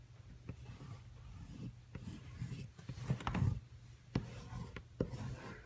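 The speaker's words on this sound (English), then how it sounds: "It's cheap pastel, oil pastel in black." Cheap black oil pastel drawn across paper makes dry, scratchy rubbing strokes, a steady rasp broken by sharper louder scrapes, close up with no talking.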